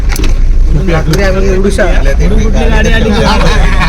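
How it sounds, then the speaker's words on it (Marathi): A car on a narrow village road in the Konkan, a steady loud engine hum close by, with people talking over it the whole time. "समोरून गाडी आली का ब्लॉक झाला ना रोहित?"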